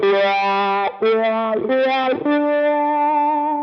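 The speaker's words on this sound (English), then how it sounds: "And the conductor wah." Electric guitar played through a conductor-style wah effect on a Line 6 Helix, sustained distorted chords whose tone sweeps within a narrow range, with three short breaks between held phrases, loud and up front.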